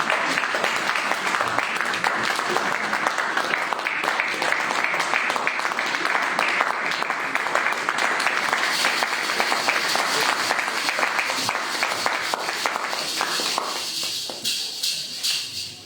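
A congregation at a French-language Sunday church service claps in loud, sustained applause for many seconds, and the clapping thins out toward the end.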